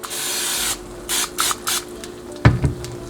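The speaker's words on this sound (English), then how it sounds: "You can give this little ring a spray." Cooking spray hissing onto an egg ring for cast iron eggs, one longer burst followed by three short spritzes, then a couple of soft clanks.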